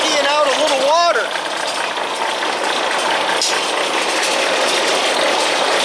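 A homemade steam jenny runs while spraying atomized fuel, making a continuous loud mechanical whir and hiss. A short spoken exclamation sits at the start, over the noise.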